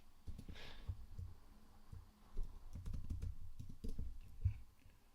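Typing on a computer keyboard, soft irregular clicks and taps arriving in short bursts, faint and close, with low thumps from handling and no talking.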